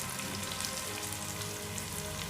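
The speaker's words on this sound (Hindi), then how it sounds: "अब मैं प्याज फ्राई कर रही हूँ" Onions frying in a pan as the base of a karela gravy with leftover keema, giving a steady, dense sizzle that stays loud and even throughout with no talking.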